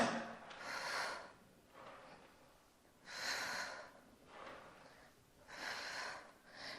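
Three slow, forceful exhalations through the nose during an intermediate Pilates reformer core exercise, each a breathy whoosh a few seconds long, evenly spaced with quiet breathing between them, close and soft.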